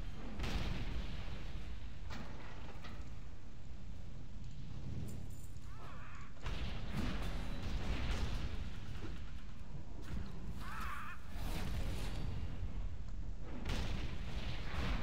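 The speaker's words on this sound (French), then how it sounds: "Je m'ai une petite boulette de canon sur la gueule" Cannon fire in World of Warcraft, several heavy booming blasts and thuds that come at irregular intervals over a dense, constant battle din.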